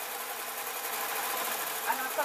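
A fast-running sewing machine stitches a long running stitch through a satin apron, a steady continuous whir with a brief tap near the end and quiet talk over it.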